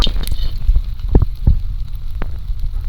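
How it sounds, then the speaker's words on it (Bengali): A soybean fritter coated in gram flour batter frying in hot oil, with a close, low bubbling sizzle and a few sharp pops and crackles over a short stretch. "তবে একদম প্রথমে আমি একটা ভাজবো"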